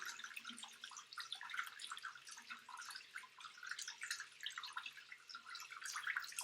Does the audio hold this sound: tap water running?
yes